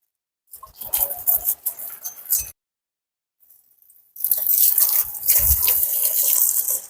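Water poured over potted orchids, phalaenopsis and dendrobium, some mounted and some planted with trays beneath, comes through as steady splashing and pattering, a short burst, a pause, then a louder continuous stream close by.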